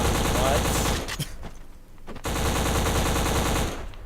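Video game gunfire and explosions come in a dense, continuous barrage that drops away briefly mid-clip, then resumes just as loud.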